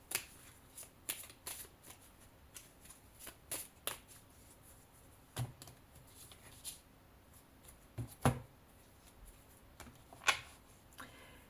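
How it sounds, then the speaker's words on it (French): An oracle card deck is shuffled and cut, producing soft riffling flutters and quick card slaps in uneven bursts, close and fairly quiet, with brief pauses between. "Je vais quand même faire une coupe avec l'oracle des miroirs pour voir."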